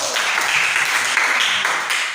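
A school class clapping hands in a classroom lesson, a brief burst of dense, close applause that stays steady for a couple of seconds.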